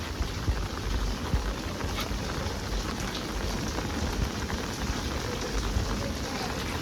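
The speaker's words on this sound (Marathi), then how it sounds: "भारीपैकी पाऊस चालू आहे." Heavy monsoon rain pours onto a lake in Mumbai in a dense, continuous roar of drops hitting water and nearby surfaces, steady throughout with no talking.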